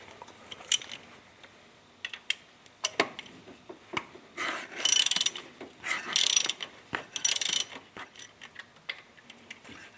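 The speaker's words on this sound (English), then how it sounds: "And here's my 24 millimeter socket." A ratchet with a 24 mm socket loosens the oil pressure sender switch on a 1995 Subaru Legacy, clicking in quick bursts of rapid pawl ticks close up, with pauses and metallic rubbing between strokes.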